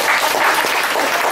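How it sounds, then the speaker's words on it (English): Dense, sustained clapping from the Clapping Back Orchestra, many hands beating together in a loud continuous wash like applause, with no voices over it. "You'd think it would be different without the vocals, but it's so much more intense, just the clapping."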